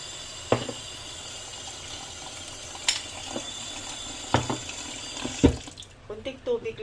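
Tap water runs into a bowl of broccoli being washed in a sink, a steady faint stream broken by a few sharp splashes and clinks, ending with louder bubbling as the water level rises.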